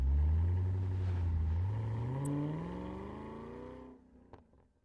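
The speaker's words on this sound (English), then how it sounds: "That Mustang sounds great" A Ford Mustang engine in Forza Horizon 3 roars up through the gears, loud and close, its rising revs sweeping higher before the throttle lifts and it fades to a quieter idle with a couple of faint clicks.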